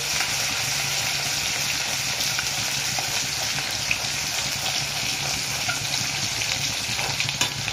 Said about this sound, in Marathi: आणि आता प्रथम आपण टाकणार लसूण अद्रक टाकलेले आहे.